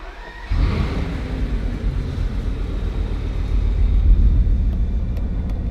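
A Bugatti engine fires up and settles into a steady, loud, deep idle rumble close by, its low drone holding for several seconds after a brief quiet moment with no talk.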